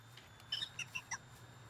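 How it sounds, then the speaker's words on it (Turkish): Chickens cluck in the SCUM survival video game, a quick run of four or five short, faint clucks over a low background hum. "Hem sağdan hem soldan tavuk sesi geliyor."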